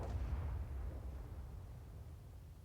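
A tank cannon booms in a World War II tank video game, a single deep blast at the start that rumbles and slowly fades with no talking.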